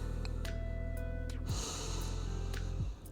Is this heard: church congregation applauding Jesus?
no